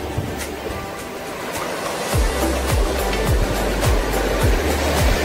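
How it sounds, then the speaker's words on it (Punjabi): Sea waves roll in on a quiet Goa beach, a continuous loud wash of surf with repeated low thumps as breakers land close by. "ਗੋਆ ਦੇ ਸਾਗਰਾਂ ਦੀਆਂ ਇਹ ਲਹਿਰਾਂ ਹਰ ਸੈਲਾਨੀ ਦੀ ਧੜਕਣ ਬਣੀਆਂ ਰਹਿੰਦੀਆਂ ਹਨ"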